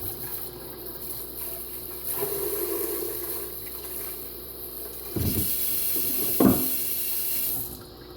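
Water sprays steadily from a hose or tap, a close hissing rush with a few knocks and clunks as a Marineland 250 hang-on-back canister aquarium filter is rinsed.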